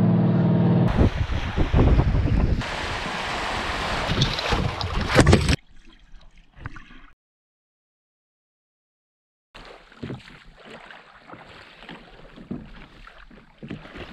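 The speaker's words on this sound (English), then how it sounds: "I am on the world's most popular small sailboat, the Sunfish, on the world's largest lake, Lake Superior" A Sunfish small sailboat moves under sail on Lake Superior, with heavy wind buffeting the microphone and water rushing past. The noise is loud at first, then cuts to near silence, and rough wind and water noise return.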